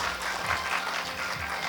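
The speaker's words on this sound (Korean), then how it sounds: "다시 한번 큰 박수 부탁드리겠습니다." Steady crowd applause from an audience of parents at a Ministry of Education briefing on the high school credit system in Gwangju, a dense, even patter of many hands that holds at a constant level throughout.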